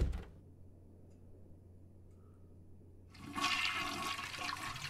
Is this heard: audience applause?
no